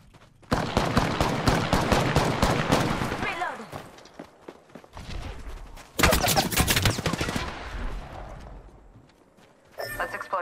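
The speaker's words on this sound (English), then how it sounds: "Hostile over there. Opening fire." Bursts of gunfire in the Apex Legends battle royale game, a dense rapid volley up front and a second burst a few seconds later, loud and close, with a voice speaking over parts of it.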